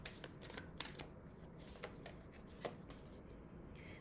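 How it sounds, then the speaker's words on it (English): Moonology oracle cards being shuffled by hand, a quiet, close run of rapid riffling flutters and soft slaps repeating steadily throughout. "let's get three cards from the Moonology deck"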